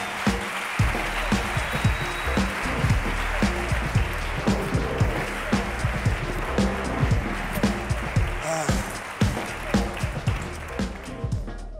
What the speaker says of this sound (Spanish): por favor, un fuerte aplauso para Guille Galván